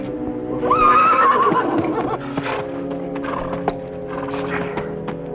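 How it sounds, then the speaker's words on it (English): A horse whinnies loudly up close, then hooves shuffle and stamp as a voice speaks briefly nearby. "You might fetch my horse."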